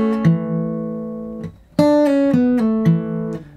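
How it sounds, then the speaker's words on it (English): An acoustic guitar plays a short lick: a sustained bass-heavy chord, then a quick run of plucked single notes and slides that ring out clearly up close. "And now he plays a little lick"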